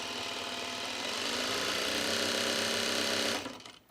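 A sewing machine winds a bobbin with a fast, continuous whir that builds slightly in pitch, then stops abruptly near the end, leaving a quieter tail. Close by, and no voices are heard.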